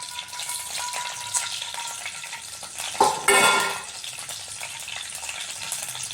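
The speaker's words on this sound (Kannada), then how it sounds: "ಎಣ್ಣೆ ಇದು ಕಾದಾದ ನಂತರ ಸಾಸಿವೆ ಕಡಲೆಬೇಳೆ ಉದ್ದಿನಬೇಳೆ ಜೀರಿಗೆ ಮೆಂತ್ಯ ಹಾಕ್ತಾಯಿದ್ದೀನಿ" Mustard seeds, chana dal, urad dal, cumin and fenugreek fry in hot oil with a steady close crackling sizzle, broken midway by a sharp clatter of a spoon against the pan.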